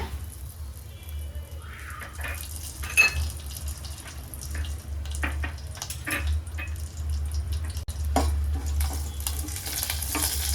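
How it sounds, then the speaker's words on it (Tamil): Mustard seeds and curry leaves crackle and sizzle steadily in hot oil in a home kitchen pan, with scattered pops and spatter over a constant frying hiss, close by and with no talk. "இப்போ கடுகு கருவேப்பிலை போடலாங்க."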